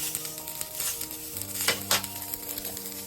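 Oat milk butter sizzles in a hot pan with browned food, a steady crackling hiss with a couple of sharper spits, close and continuous under a faint hum.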